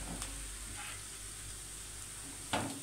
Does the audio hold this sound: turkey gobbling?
no